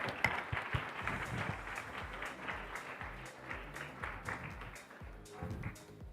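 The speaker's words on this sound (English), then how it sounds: "We request the hall to give him a round of applause as he leaves" A conference hall audience claps as a departing guest leaves, a moderately faint, uneven patter of scattered hands that thins slightly toward the end.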